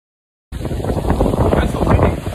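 Strong wind buffets a Shure MV88 microphone on an iPhone in Miami, Florida, in loud, continuous rumbling gusts, starting abruptly after a brief silence and roaring steadily to the end.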